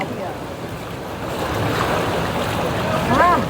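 Boat arriving on the sea near Padmadurg fort, with waves washing and wind buffeting the microphone in a continuous roar, swelling slightly toward the end, and a faint voice in the background.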